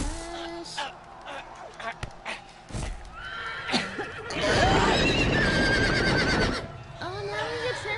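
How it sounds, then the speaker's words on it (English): Horses neigh and whinny in a Game of Thrones video game, with several calls and a stretch of heavy trampling hooves, while a person talks over the scene. "now we get trampled by horses?"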